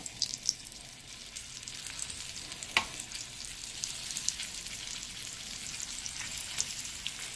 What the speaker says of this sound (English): brown the meat.